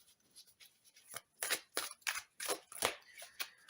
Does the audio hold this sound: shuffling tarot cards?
yes